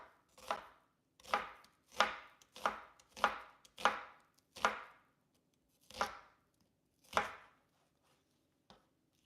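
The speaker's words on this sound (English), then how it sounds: "There's something therapeutic about just chopping vegetables or whatever." Vegetables are chopped on a cutting board in a home kitchen, about ten crisp knife strikes in a steady, unhurried rhythm, close and alone with quiet gaps between cuts.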